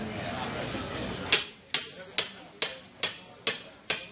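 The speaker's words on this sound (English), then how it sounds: "Hammer, I'm going to hammer this all right in there" Seven sharp, evenly spaced hammer blows ring out as a plug is driven into a 5/8-inch puncture in a skid steer tire, each strike loud and close with a short metallic ring, following a stretch of broadband background noise.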